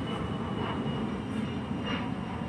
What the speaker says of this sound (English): sorry for the plane flying above.